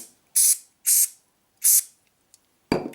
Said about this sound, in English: So all you do is you spray the area that you want to